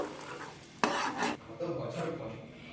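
A spoon stirs melted nolen gur, date palm jaggery, in a pot to cool it, with soft scraping and a few louder clinks against the metal, up close and without talk.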